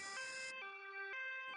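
Cartoon ambulance siren wailing in a steady two-tone pattern, loud and close, with bright harmonic tones alternating pitch over under two seconds and no voices.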